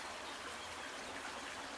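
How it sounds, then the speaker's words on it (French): A small clear stream flowing through marshy vegetation near the Dordogne, heard as a steady, soft broadband rush and trickle of water throughout. "Magnifique ce ruisseau là."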